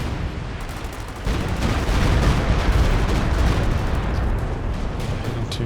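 Battle noise during a Stuka dive bomber attack in a Company of Heroes 2 match: loud, dense rumbling explosions and gunfire build after a quieter first second and roll on continuously to the end.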